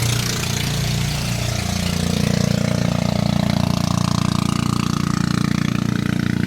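A small pump boat engine runs steadily with a droning mid-pitched hum, sustained and fairly close, building slightly in loudness, with no speech.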